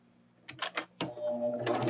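A sewing machine stitches the final side of a Card Trick quilt block, with a few short bursts of running followed by a steadier whirring stretch, fairly close and moderately loud, with no talking.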